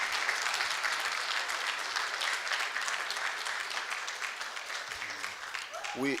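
Sustained audience applause at a commemoration ceremony at Freedom Park, South Africa, steady and dense throughout, with a voice beginning to speak over it near the end.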